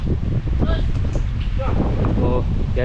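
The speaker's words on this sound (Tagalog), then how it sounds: "sobrang lakas ng hangin" Strong wind roars across a microphone by a rough sea with big waves, a steady broadband rush under nearly the whole clip while someone speaks briefly.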